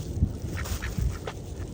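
Ducks at a windy lake quack in short, scattered bursts while being fed bread, several calls over low wind rumble, fairly close.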